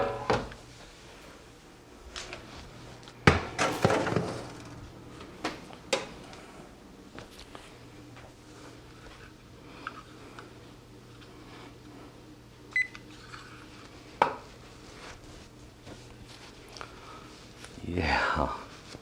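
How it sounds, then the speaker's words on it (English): Metal pans clatter and scrape in a kitchen while baking cheese crackers, with an oven door thudding and scattered clanks between quieter pauses; a voice speaks briefly. "Time to swap pans."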